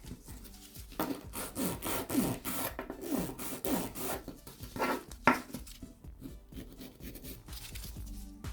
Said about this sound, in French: Et j'affine mon bord libre avec ma ponceuse.